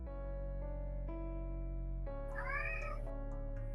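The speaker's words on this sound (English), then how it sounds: "I heard a cat." A house cat meows once, a short, clear cry rising over a steady background of sustained music tones, fairly close and alone with no talking.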